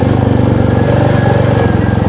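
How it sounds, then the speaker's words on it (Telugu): Motorcycle engine idling steadily after a roadside repair, a close, even putter with a regular rhythmic pulse throughout and no talk. "మొత్తానికి బైక్ అయితే స్టార్ట్ అయింది"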